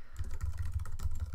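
Rapid typing on a computer keyboard, a quick irregular run of close, crisp key clicks lasting about a second and a half, with no voices.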